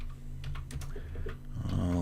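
Quick, uneven keystrokes on a computer keyboard typed with one hand, close and fairly soft, with a voice starting to speak near the end.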